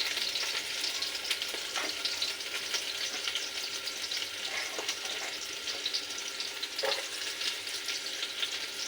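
Chopped onions sizzle in hot oil for mutton pulao, a constant close frying hiss with scattered crackles and a few clinks of stirring, no voices.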